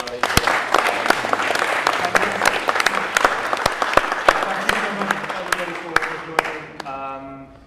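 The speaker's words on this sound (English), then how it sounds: "Can I have a round of applause for all three of our" An audience applauds panel speakers at an Islamic economy event, steady dense clapping with sharp individual claps standing out, tapering off as a voice begins speaking near the end.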